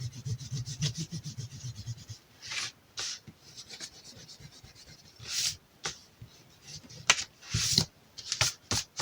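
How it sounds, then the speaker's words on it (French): A pencil eraser rubbing out dimension marks on paper or card in short, brisk scrubbing bursts, close and fairly quiet, with pauses between strokes and a low hum at the start. "je vais gommer les dimensions"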